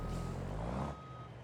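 A truck backing up gives off a steady, loud reversing beep over low engine rumble. The tone stops shortly before the end.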